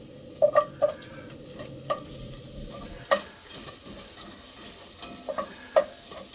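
Bacon and butter sizzle softly in a pot for fish chowder, with a handful of sharp spoon clicks and scrapes against the pot as it is stirred, spaced irregularly.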